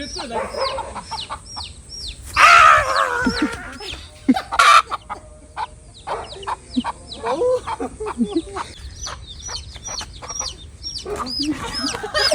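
A mother hen clucks loudly and insistently, with bursts of agitated squawking as her chick is caught, amid chirping chicks and a busy village farmyard in the morning.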